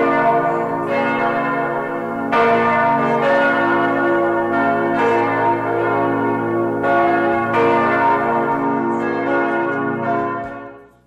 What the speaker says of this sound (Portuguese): Os sinos anunciam o fim do terço.